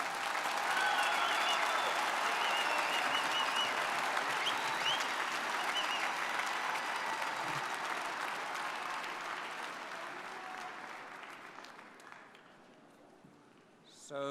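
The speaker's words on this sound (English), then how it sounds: "give a round of applause to the master's degree graduates" Audience clapping for master's degree graduates at a university commencement ceremony, a broad sustained wash of applause that slowly fades over the stretch before a brief pickup at the end.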